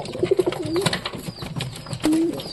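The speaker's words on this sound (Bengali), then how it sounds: "দেখতে পাচ্ছি সব কবুতরগুলো নিচে নেমে গেছে, কীরকম করতেছে সবগুলা" Giribaz pigeons cooing close by, a quick series of soft pulsing coos followed by longer rolling calls, with light fluttering and background rustle.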